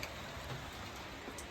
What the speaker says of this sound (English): Surprise, surprise, it's raining again.